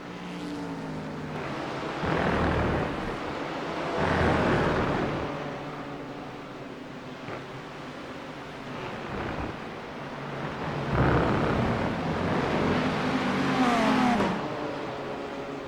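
Race car engine roaring at speed through turn 1 at Road Atlanta during a sunset league race, a continuous loud drone with swells of revving and wind buffeting, no talk.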